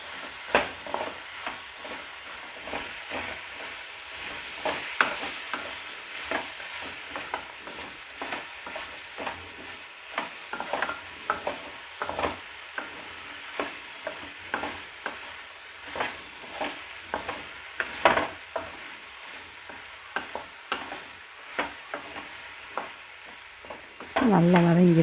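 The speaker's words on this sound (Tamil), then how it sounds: "வெண்டைக்காயை சேர்த்து நல்லா பெரட்டி விட்டுக்கலாம்" Okra stir-fried in a pan for a tamarind side dish, a continuous close sizzle punctuated by regular scraping strokes of a spatula, with almost no talking.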